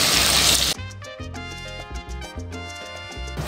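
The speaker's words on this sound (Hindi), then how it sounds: "और साथ हम ऐड करेंगे तकरीबन 3 कप पानी।" Water poured into a mutton karahi already frying with tomatoes and chillies gives a loud, brief burst of hissing splash. It cuts off after under a second, leaving background music to carry on alone.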